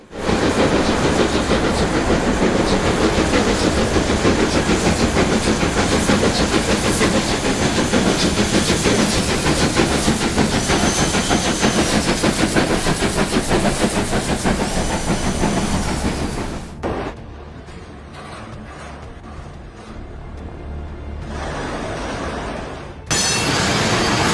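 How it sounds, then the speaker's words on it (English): Steam trains arriving at Schiefe Eben in Neuenmarkt, a loud continuous hiss and chuffing rumble with rail noise that holds for most of the clip, then drops away briefly before resuming, with no talking. "several steam trains arrived at Schiefe Eben in Neuenmarkt, Würzburg."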